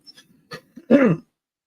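A single close cough preceded by a few small throat sounds, then silence.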